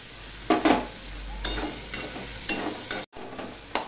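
A tomato and three green chillies tossed into browned onions frying in a pan: a close, crackling sizzle with bursts of stirring and scraping, brief dips and a sharp cut near the end, without any voices.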